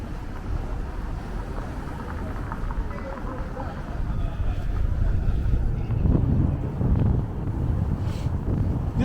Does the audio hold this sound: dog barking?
no